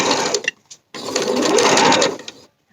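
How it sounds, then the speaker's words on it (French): A sewing machine stitches the final section of a blouse, running in a short burst, pausing briefly, then whirring rapidly and loudly for over a second before stopping. "Et la dernière partie, je vais devoir la coudre dans le vide."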